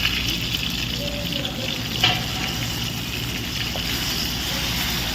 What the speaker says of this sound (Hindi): अभी टमाटो हम लोग डालेंगे इसी के अंदर, जो हम इसको भूजेंगे अच्छा।